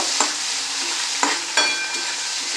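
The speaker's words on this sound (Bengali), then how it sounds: "এর মধ্যে এবার দিয়ে দিচ্ছি কেটে রাখা পেঁয়াজ, দিয়ে এটা আমি আবারও নাড়াচাড়া করব" Chopped onions sizzle steadily in a hot pan of oil for an egg omelette curry, with a few distinct scraping stirs of a utensil cutting through the constant close frying hiss. No one speaks.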